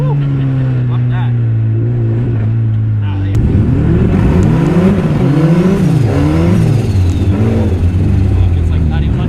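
Turbocharged all-wheel-drive Honda Civic wagon revving hard on a launch along mountain trails, a steady idle-like drone jumping into loud rising and falling revs, with voices talking over the engine.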